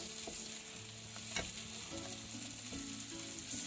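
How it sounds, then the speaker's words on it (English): Curry powder gets stirred into a peanut sauce in a pan, a quiet bubbling sizzle with spoon scrapes and a brief knock, heard alone and close. "mix the curry powder around with the peanut sauce"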